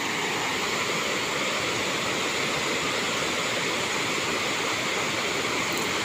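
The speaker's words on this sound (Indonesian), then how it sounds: "itu sungai Bogowonto" Bogowonto river water rushes in a steady, broadband roar near Bendung Guntur weir, continuous and fairly faint, with no voices.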